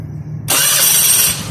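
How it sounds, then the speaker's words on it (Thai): An old car with an old battery and an aftermarket starter motor cranks with a low hum, then the engine abruptly catches and roars into a loud, steady run. "เห็นนะเสียงมันจะหมุนแรงและเร็วนะครับ"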